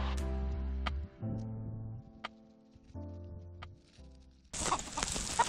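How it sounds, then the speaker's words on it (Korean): Chickens clucking in a flock, a run of low, throaty calls with a few sharp clicks, then a burst of loud rustling hiss at the end. "로라를 닭들에게 신고식도 할 겸해서 데리고 왔다."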